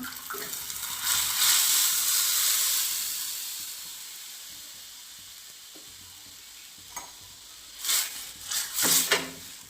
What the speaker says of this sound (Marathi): लसूण आणि जिरे परतल्याच्यानंतर याच्यामध्ये लगेच भाजी टाकून घ्यायची